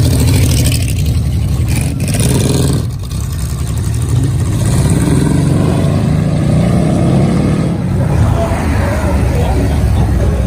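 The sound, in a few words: car engine revving at a muscle car show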